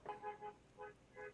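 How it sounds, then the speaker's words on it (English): Car horns honking outside, heard as several separate toots in a ragged rhythm, moderately loud and somewhat distant, with no talk over them. "can you guys hear all that honking?"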